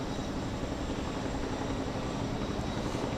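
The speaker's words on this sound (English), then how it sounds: "The helicopter here is bringing over sandbags" A helicopter ferries one-ton sandbags over a canal at a dam site, its rotor and engine giving a steady, loud, continuous drone that holds unbroken throughout with no talk.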